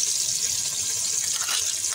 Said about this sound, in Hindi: अब हम इसमें पहले ज़ीरा डालेंगे, इसके बाद हम प्याज डालेंगे। प्याज डाल रहे हैं, ये भी फ्राई होगी